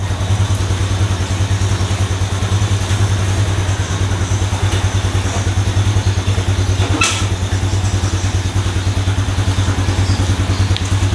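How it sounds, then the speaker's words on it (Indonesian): A Yamaha Jupiter Z1 motorcycle engine idles in first gear with the rear wheel slowly turning, a bike being repaired for creeping forward when put in gear; a loud, close, steady low thrum with an even rhythm and no drops. "ini motor udah saya masukkan gigi 1, langsam, RPM-nya nggak ada drop-dropnya"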